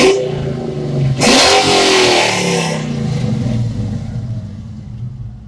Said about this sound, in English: That's what 400 horsepower sounds like in a 70 Baracuda.